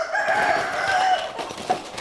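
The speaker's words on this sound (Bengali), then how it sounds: "এখানে আরো অনেক মুরগি আছে" Native desi chickens on a Sylhet farm cluck and a rooster crows in a continuous, fairly close barnyard chorus with no talk.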